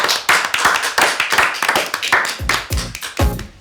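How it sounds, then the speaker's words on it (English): Audience applause on a Friday show, a short burst of hand clapping building into loud, irregular claps that fade after a few seconds. "give me a round of applause"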